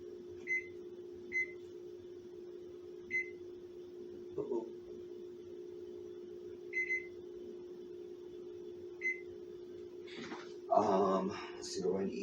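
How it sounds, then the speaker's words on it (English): A kitchen timer is set beside a cooking stove while pasta sauce is started, giving a string of short, spaced electronic beeps over a steady hum, followed by clattering kitchen sounds. "let me set my timer."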